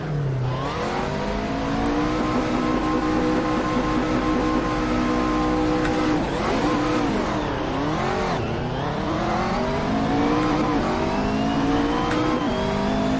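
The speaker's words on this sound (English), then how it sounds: "Sounds like a V6" A V6 car engine in the Assetto Corsa racing game revs hard and continuously, its pitch climbing through gears with a dip and recovery midway, loud and steady throughout with no speech.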